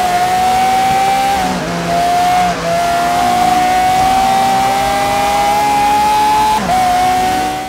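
Loud, steady engine roar from a racing car in the video game Forza Horizon 3's Hot Wheels expansion, holding a sustained high tone with brief dips at gear shifts and a faint tire squeal, no voices.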